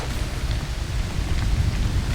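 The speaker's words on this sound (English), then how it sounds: "Rain and wind coming through." Rain and wind sweep over a Manitoba hunting spot in early September, a steady loud wash of rainfall with low rumbling gusts underneath, constant throughout with no talking.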